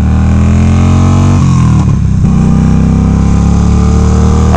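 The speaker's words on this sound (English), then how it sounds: "I like this engine. This is a pretty slick engine." A Yamaha V Star 950 motorcycle engine rumbles loudly up close, with a brief dip in revs partway through before settling back into a steady, heavy drone.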